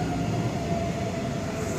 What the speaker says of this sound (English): That train's going to depart.